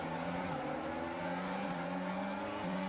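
An F1 car in the video game F1 22 accelerates hard off the starting line, its high engine whine climbing through the gears with brief dips at each shift, continuous and fairly faint.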